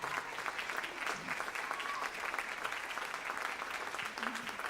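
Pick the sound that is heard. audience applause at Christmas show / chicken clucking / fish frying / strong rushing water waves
audience applause at Christmas show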